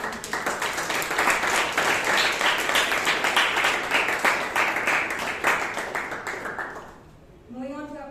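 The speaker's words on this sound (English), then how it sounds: "Let's give a huge round of applause to our partners." Toastmasters meeting audience in Bangalore breaks into steady applause lasting several seconds, clapping at a moderate distance before fading out, followed by a voice starting to speak.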